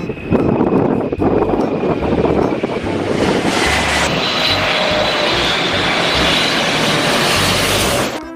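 A toy airplane engine drones loudly and steadily for several seconds, a continuous whirring roar with no voices.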